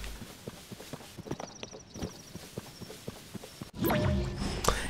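Horse hooves clip-clopping in the game Zelda Tears of the Kingdom, a run of crisp, irregular knocks at moderate distance, then a louder burst of rustling movement near the end.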